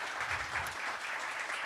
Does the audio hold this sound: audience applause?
yes